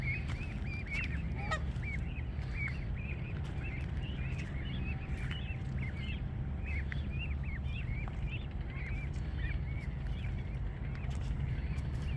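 An adult goose honks repeatedly along a shoreline near goslings, a steady series of moderately loud calls over constant outdoor background noise.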